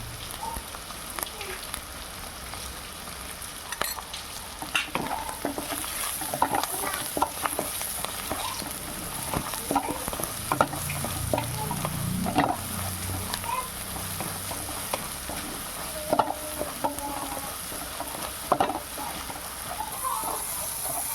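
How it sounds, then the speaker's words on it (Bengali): Masala of salt and Kashmiri red chili powder sautéing in a pan for egg tarka, a steady soft sizzle with scattered stirring scrapes and taps, moderately quiet and close. "মশলাটা আমার ভালোভাবে কষানো হয়ে গেছে।"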